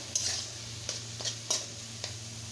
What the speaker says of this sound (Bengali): সুন্দর করে এখন আমি এটাকে ফ্রাই করে নেব।